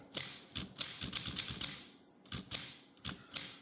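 A Smith Corona Skyriter typewriter clacks in short bursts of key strikes with brief pauses between, crisp and close.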